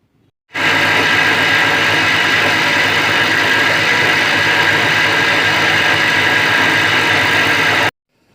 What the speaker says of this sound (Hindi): सारी चीज़ें शामिल करने के बाद इसको अच्छी तरह से ब्लेंड कर लेंगे तकरीबन 5 से 10 मिनट के लिए